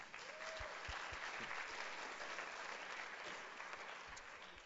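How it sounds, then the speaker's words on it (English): Continuous crowd applause for Mikaela at a talk in Oakland, a broad steady wash of clapping heard at a distance, with a few faint voices and thumps mixed underneath. "So clap it up for Mikaela again."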